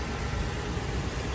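A Toyota 2UZ-FE engine runs in a Land Cruiser, giving a steady, even rumble with dense broadband noise. It sounds close and constant, with no talking.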